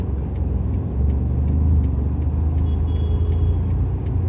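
A car engine drones and revs steadily from inside the cabin during a driving lesson, a continuous low rumble with faint periodic ticking above it and no talking.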